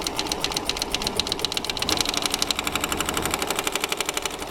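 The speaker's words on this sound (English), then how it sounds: "And it will do perfect buttonholes" A Bernina 830LE sewing machine stitches a buttonhole through heavy denim jeans, its needle pounding in a fast, steady mechanical rhythm that stays close and loud with no talking.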